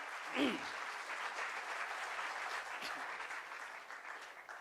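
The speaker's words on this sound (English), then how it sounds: "Can we have a round of applause for them?" A hall audience gives a round of applause for the top contestants of a civil engineering quiz, a steady, moderately distant patter of many hands that tapers slightly toward the end, with a brief voice at the very start.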